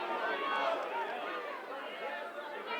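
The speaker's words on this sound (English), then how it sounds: "Crowd yelling for a forward pass." Rugby league crowd at an Oldham versus Widnes match yelling and clamouring for a forward pass, a dense, sustained wash of many voices filling the stadium at steady loudness.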